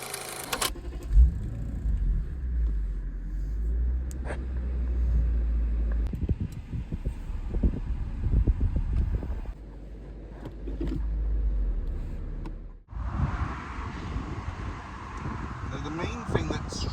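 A Lexus SC430 V8 convertible cruising on the road with the top down, a low steady engine and road rumble throughout, with a brief mechanical shift in tone late on and a smoother, quieter hum after it.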